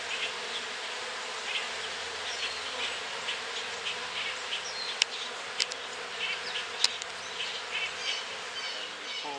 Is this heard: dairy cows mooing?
no